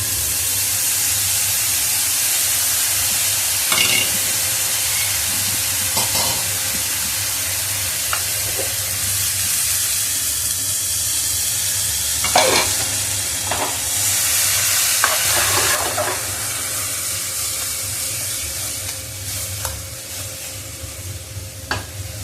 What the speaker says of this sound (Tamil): மிளகு, இஞ்சி பூண்டு பேஸ்ட் விடுது.